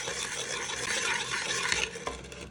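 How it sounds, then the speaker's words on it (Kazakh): A spoon stirring warm water with salt, sugar and yeast in a deep bowl, a steady close scraping swirl that runs continuously, with a sharper clink near the end. "Шұңғыл ыдысқа 250 мл жылы су, 1 шай қасық тұз, 20 грамм немесе 3 шай қасық қант, 1 ас қасық аштықыны салып араластырамыз."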